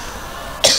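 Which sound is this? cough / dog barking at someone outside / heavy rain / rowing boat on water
cough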